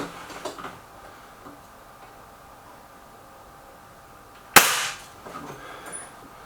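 A Hatsan 900x Breaker air rifle fired once during target shooting, a single sharp crack with a short decay, standing out loudly from a quiet, faintly ticking background.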